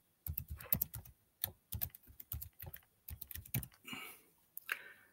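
Quick, close keystrokes clatter on a computer keyboard as a password is entered, coming in uneven bursts with short pauses and a softer rustle near the end.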